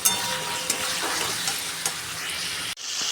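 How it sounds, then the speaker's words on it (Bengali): Spice masala with slit green chillies frying in oil for a vegetarian dish: a dense, continuous close sizzle with a few light clicks of stirring, ending in a sudden brief drop near the end. "খুব ভালো করে মশলাটা কষাতে হবে।"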